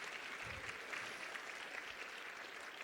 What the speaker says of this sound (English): A big clap for Jordan's presentation, please.